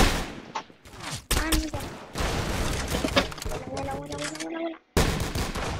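Rapid bursts of gunfire from the online shooter game Arsenal crack out in loud, sharp volleys, with a brief silence near the end, while a player talks excitedly in Spanish over the shots.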